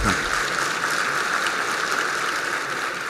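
Steady, dense applause from an audience, loud and continuous throughout with no talking over it.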